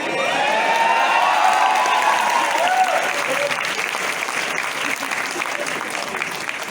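A university audience in Lahore applauds during a poetry event. The clapping is loud and steady, with some cheering and voices mixed in, and it fades slightly toward the end.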